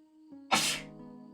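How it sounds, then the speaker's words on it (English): A single sharp human sneeze during a gaming livestream, a short breathy burst that follows a faint intake of breath, heard up close over a quiet steady hum. "No sneezing ASMR."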